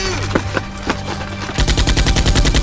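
Rapid bursts of toy-gun fire in a Nerf war game, a few scattered shots followed by a fast, loud, regular volley close by, with brief shouting mixed in.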